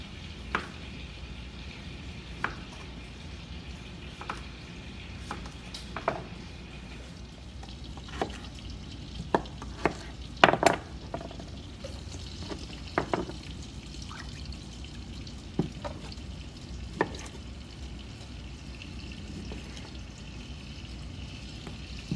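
An organic vegetable mix with carrots fries in a pan with a soft, steady sizzle, broken by scattered sharp clicks and taps of utensils against the pan over about twenty seconds.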